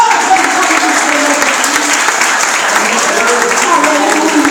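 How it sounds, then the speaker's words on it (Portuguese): Loud, sustained clapping from a church congregation during worship, steady and continuous throughout with voices faintly mixed in. "Exalta o Senhor com as palmas"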